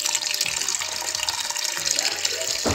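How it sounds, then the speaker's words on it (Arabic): Water pours continuously into a lamb and green bean tagine in the pot, a close, steady splashing and trickling with no speech over it. "غندير الماء"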